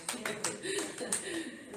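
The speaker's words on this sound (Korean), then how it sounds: "우리 예수님께 감사 박수." Applause from a church congregation during a Sunday worship service, several bursts of brisk hand clapping layered with voices speaking over it, moderately loud and roomy.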